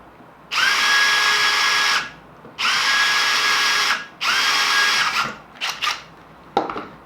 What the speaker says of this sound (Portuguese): uma broca de cobalto e uma velocidade baixa, um pouquinho de pressão, a gente vai fazer um recesso com o uso dessa broca